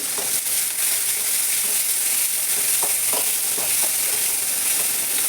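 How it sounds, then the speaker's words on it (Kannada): Onion and tomato fry in a pan while rice is cooked, giving a loud, steady sizzle close up with occasional stirring scrapes and no voices. "ಇದಕ್ಕೆ ಸ್ವಲ್ಪ ಉಳ್ಳಾಗಡ್ಡಿ ಟೊಮೆಟೊ ಹಾಕ್ತೀನಿ ರೀ ನೋಡ್ರಿ ಟೊಮೆಟೊ ಹಾಕಿನಿ"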